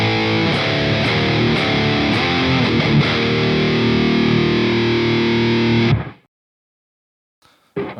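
An electric guitar plays through a Line 6 Spider Valve HD100 amp with no boost pedal, giving a loud, dense distorted tone with chugging rhythm that rings for about six seconds, then cuts to silence before a faint noise at the end.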